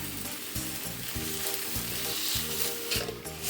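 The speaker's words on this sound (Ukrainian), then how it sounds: "для того, щоб на цій сковорідці посмажити млинчики" Thin crepes sizzle and crackle on an electric crepe maker, a constant bright hiss with low music pulsing rhythmically in the background.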